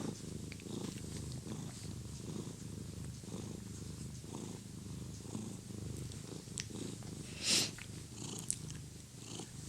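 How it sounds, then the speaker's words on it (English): Apollo, a male house cat, purring softly and close, a low continuous rumbling rhythm with gentle breath cycles, quiet and alone apart from a brief rustle near the end. "purring is an amazing ASMR sound, isn't it?"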